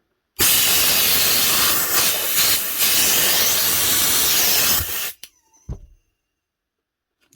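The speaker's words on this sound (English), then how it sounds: "this is faulty too, that is leaking air" Compressed air hisses loudly from a faulty Hikoki NR1890DCA nail gun, a harsh, steady blast lasting several seconds that cuts off abruptly, followed by a couple of short puffs and a faint click.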